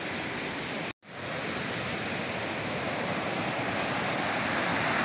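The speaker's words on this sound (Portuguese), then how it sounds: "Esse aqui forma uma cachoeira e tem a outra cachoeira pelo outro rio." Waterfall at Cachoeira Paulista, where two rivers meet in two falls: a steady, loud, broadband roar of falling water fills the scene from start to finish, broken only by a brief cut to silence near the start.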